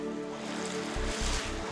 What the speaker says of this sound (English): Water is still flowing in.